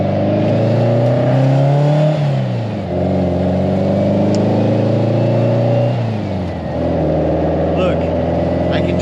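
A 1956 Volkswagen engine fitted with 40mm Dellorto carburetors revs up loud and close, pitch climbing, easing off, then rising again, with a voice talking over the engine.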